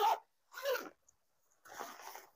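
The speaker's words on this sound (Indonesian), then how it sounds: "Untuk bagian belakang ini ada resleting" A zipper on an Arei Cartenz 60L hiking backpack is pulled open in three quick, close rasping strokes separated by short silences.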